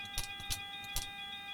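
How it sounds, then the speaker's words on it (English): A cockpit warning tone in a PMDG Boeing 737-700 in Microsoft Flight Simulator: steady high-pitched chime tones hold throughout, with a few short clicks or switch sounds at intervals, no talking. "I haven't heard that alarm in a while."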